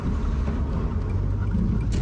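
An Audi TT 8N with a turbo engine driving, with a steady, loud low rumble of engine and road noise heard from inside the car and no talking.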